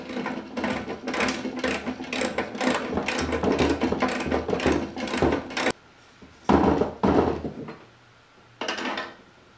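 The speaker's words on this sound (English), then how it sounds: "You have to use a little ratchet." Small hand ratchet tightening a mount on a DK2 cargo carrier, rapid repeated clicking strokes in quick bursts, close and fairly loud, then a pause and a few shorter clicking runs.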